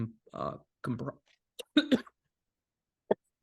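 Short bursts of speech give way to a couple of quick, sharp coughs, then a pause and one more isolated cough.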